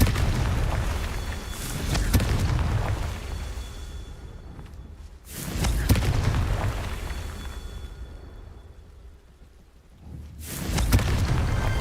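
Confringo fire-spell blasts from Hogwarts Legacy burst out loud and booming, three big explosive hits spaced several seconds apart, each rolling into a rumbling, crackling tail that fades before the next.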